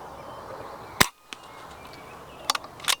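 A sharp air rifle crack rings out once, followed by a softer impact thud, then further short snaps a second and a half later, all over a quiet outdoor background while shooting a hooded crow at about 45 yards with a Bisley Magnum pellet.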